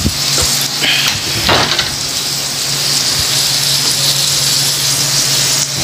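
Korean samgyupsal pork and beef sizzle steadily on a hot grill, a continuous loud frying hiss with brief crackles and faint clinks of utensils, with no talking.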